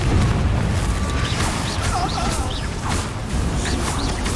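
A fire-spell blast from a wizard duel in Hogwarts Legacy erupts as a dense, low rumbling boom. A steady roar lasts the whole stretch, with small whooshing flourishes layered over it.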